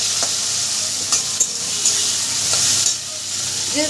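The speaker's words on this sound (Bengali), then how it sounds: "মশলাটাকে আমি সুন্দর করে ভেজে নিচ্ছি পেঁয়াজ আর টমেটোটাকে আমি ভেজে নিয়েছি" Onion, tomato and spices sizzle loudly in a pan for jackfruit biryani, a bright continuous frying hiss with occasional clicks and scrapes of stirring close by.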